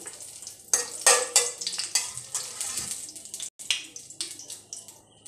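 Curry leaves crackle and sizzle as they hit hot oil in a kadhai, a loud burst of spitting that keeps popping and hissing, with occasional stirring sounds and no talking.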